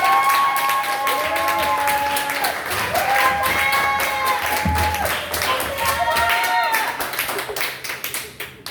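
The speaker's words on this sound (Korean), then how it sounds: "나올 때 큰 박수로 환영합시다" Audience applause and clapping welcome a speaker at a high-school youth group summer retreat seminar in a church, steady and full throughout, mixed with crowd voices and overlapping talk.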